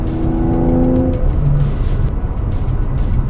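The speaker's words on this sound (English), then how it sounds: "I want to hear the pops and bangs." A Mercedes-AMG E53 convertible on the Autobahn gives off a loud, close exhaust roar with a falling engine note and crackly pops as the throttle eases off.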